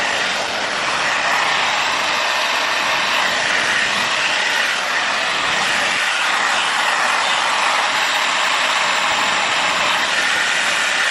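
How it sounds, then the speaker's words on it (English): A Dyson hair diffuser blows steadily at close range while hair is scrunched, a loud, even rushing whoosh that holds without pause for the whole stretch. "I used my Dyson diffuser to dry any of the rest of the hair I needed to this morning"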